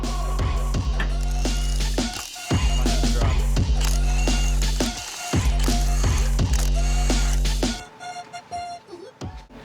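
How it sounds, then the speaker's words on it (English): A jack is worked under the skid plate of a 2023 or later Chevrolet Colorado ZR2 truck, giving loud, close rhythmic ratcheting clanks in repeated strokes with brief pauses, then quieter clinks at the end. "We'll go ahead and jack it up underneath our skid plate."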